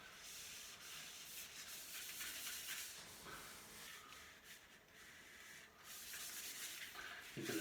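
Steady, faint rubbing and polishing on a pitted golf club shaft, a soft continuous hiss-like friction with slight rhythmic swells as the shaft is spun.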